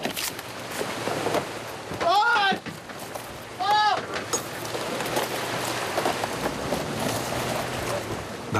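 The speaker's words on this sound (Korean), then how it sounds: "비가 오네" Rain falls at sea onto a Korean longline fishing boat hunting skate, a continuous close patter and hiss on deck surfaces, with voices talking briefly over it.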